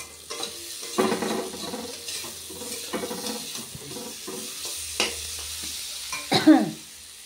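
Ground spice paste with tomato fries in a pan, a soft sizzle punctuated by irregular scraping stirs and clinks of a spoon against the metal, growing louder in a final clattering burst.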